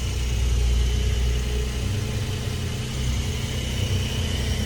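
Porsche 911 992 Turbo S idling up close, a steady deep rumble with a low throbbing undertone and a slight dip in level partway through, heard alone without voices.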